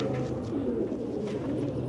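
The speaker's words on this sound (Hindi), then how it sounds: "एक ये टाई वाला कबूतर और एक बाजीगरा कबूतर" Pigeons, including a tie-marked pigeon and a tumbler-type pigeon kept by fanciers, coo in low, steady, overlapping murmurs throughout, close and continuous with no talk.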